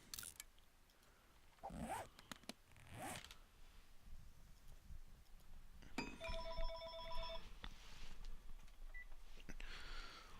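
A telephone rings once in a short electronic burst of repeated tones in the game 7 Days to Die, preceded by a few rustling, zipper-like movement noises, all fairly quiet.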